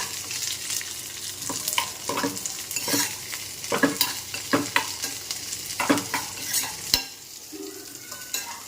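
Mango seeds fry in ghee for a mouth freshener, a steady sizzle under repeated close scraping strokes of a spoon against the pan, fairly loud with no talk.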